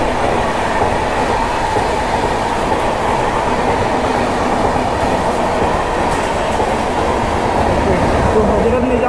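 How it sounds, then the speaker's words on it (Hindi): The Hazrat Nizamuddin Duronto express train rushes past a station on Western Railway track, a loud continuous roar of wheels and carriages rumbling steadily throughout, with talk mixed in. "तो हजरत निजामुद्दीन दुरंतो जा रही भाई"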